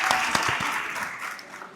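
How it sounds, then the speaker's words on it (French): Applause from the audience at a holiday camp closing ceremony in Mali, greeting the environment minister; a dense burst of clapping with a few sharper claps early on, holding fairly steady and then easing off over a couple of seconds. "Un tonnerre d'applaudissements"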